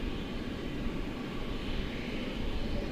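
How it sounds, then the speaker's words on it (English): An Iberia airliner approaching to land at DFW Airport, its broad steady engine roar filling the air at a constant level without any talk. "it looks like Iberia is coming in on the east side"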